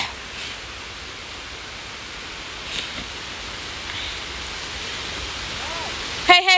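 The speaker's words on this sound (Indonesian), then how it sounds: "ini ada waterfall yang kecil" A small waterfall on a hiking trail makes a steady, even rush of falling water heard at moderate distance, with a few faint voices and a brief louder sound at the end.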